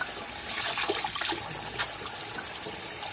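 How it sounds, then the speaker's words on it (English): Water rushes and splashes steadily nearby as a plunger in a kitchen is filled and squirted out, a continuous hiss with small spurts on top and no talking. "You fill it with water, and you squirt it to clean it out."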